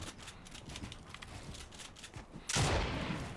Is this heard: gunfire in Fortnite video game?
yes